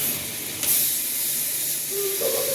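Garlic paste hits a hot pan of browned onions, releasing a loud, continuous sizzling hiss that flares briefly near the start and then holds steady, with no talking.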